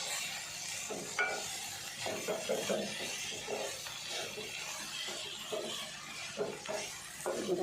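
Black-eyed peas masala being stirred and sautéed in a pan, a soft continuous scraping and sizzling with frequent small spoon knocks, fairly faint and steady throughout.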